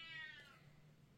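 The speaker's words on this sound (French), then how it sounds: "Désolée, c'est mon chat." A house cat gives a single short meow, quiet and a little distant, with no talking alongside it.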